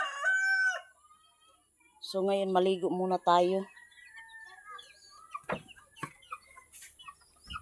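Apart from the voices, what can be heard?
chickens and rooster crowing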